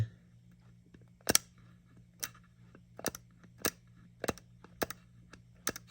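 Cured powder coating being dug and scraped with a tool during a cross-hatch adhesion test, giving sharp, isolated snaps and clicks at irregular intervals over a quiet, faint hum.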